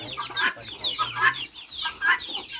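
A mother hen clucks close by in a series of short, throaty bursts in an uneven rhythm, with another bird's low calls and faint background voices mixed in.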